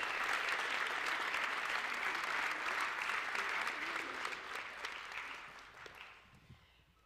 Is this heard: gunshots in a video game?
no